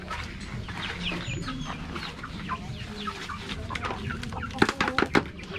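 Two chickens cluck and chatter close by with soft, irregular calls, getting busier toward the end with a quick run of sharper clucks and scratchy pecking sounds.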